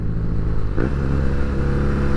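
A 2019 BMW R nine T with a 1200cc boxer engine being ridden, giving a steady, loud low engine drone with a brief rise in revs partway through.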